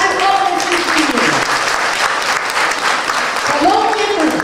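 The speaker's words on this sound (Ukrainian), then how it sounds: "Ваші оплески всі." An audience at a dance contest final claps steadily and densely for several seconds, a loud, sustained wash of applause filling the room, with brief voices or tonal sounds rising over it near the start and end.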